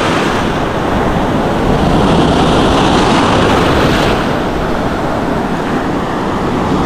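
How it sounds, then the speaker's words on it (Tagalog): Strong ocean waves roar loudly and continuously close by, a dense crashing wash of surf mixed with wind buffeting on the microphone. "Lakas yung alon."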